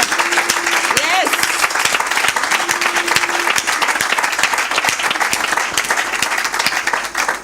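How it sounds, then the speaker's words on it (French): An audience at a church youth gathering applauds for the parents present, sustained dense clapping that fills the whole stretch while a voice speaks over it. "qu'on applaudisse pour tous les parents qui sont là."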